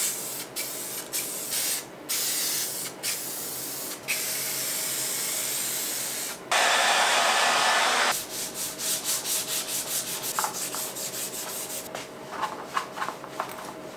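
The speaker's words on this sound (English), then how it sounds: "here goes the first coat of black primer" A first coat of black 2K primer sprayed onto a car part: long, loud, close hissing bursts of spray paint, with several brief pauses and a rapid run of short puffs toward the end.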